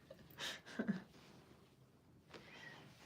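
A needy house cat gives a couple of short, faint meows in a quiet room, with a softer sound trailing after.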